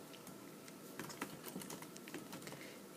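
Typing on a computer keyboard while entering hemp milk into a diet spreadsheet: a steady patter of light, close key clicks runs through the whole stretch, with a few slightly louder taps in the middle.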